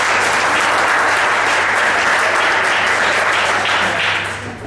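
A crowd at a political meeting gives a speaker a loud, dense round of applause that holds steady and then begins to fade near the end.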